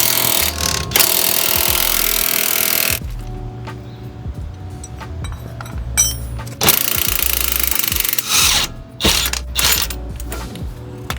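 A bolt comes out of the rear swing arm on a BMW G80 M3 with loud, close mechanical rattling and ratcheting, a long continuous run followed by several shorter bursts and clanks.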